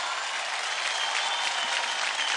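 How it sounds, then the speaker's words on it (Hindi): Loud, dense applause from a television singing-competition studio audience for a young contestant, continuous and roaring throughout. "जोरदार तालियां नीलाद्री के लिए।"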